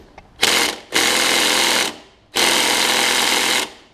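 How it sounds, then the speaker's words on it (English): Impact tool breaking loose rusted fasteners with a 3/8 inch impact drive on a Craftsman rider mower with a Briggs V-twin engine, in three loud, sustained bursts of hammering rattle, the last two lasting over a second each. "3/8 inch with an impact punch right here."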